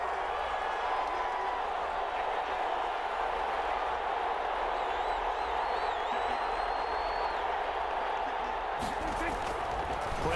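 Football stadium crowd building up before a big third down, a constant loud roar with scattered clapping, commentators talking over it and a sharp burst near the end.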